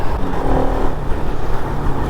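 Dense, continuous road traffic noise as cars roll past nearby, a broad loud rumble with no pauses and no talking.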